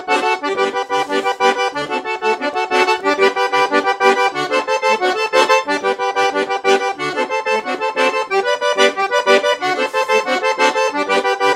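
Piano accordion played with both hands in a forró groove, bass and chords with shifting voicings: a dense, continuous, rhythmic reedy texture with steady pulsing accents, loud and close throughout.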